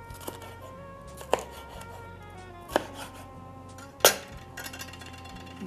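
A knife cuts vegetables into julienne strips on a board, landing as a few sparse, sharp taps against a quiet background rather than a fast run of chopping.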